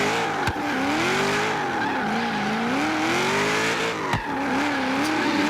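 A Subaru BRZ drift car in the Forza Horizon 3 video game drones steadily with wavering pitch as it shifts and revs, punctuated by two sharp turbo blow-off valve hisses.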